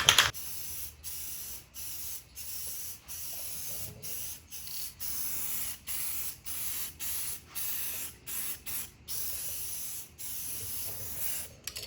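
Spray paint from a rattle can is laid on the trunk of a 2006-10 Dodge Charger Daytona in a long run of short, steady hissing bursts with brief gaps between passes, close and even, with no talking.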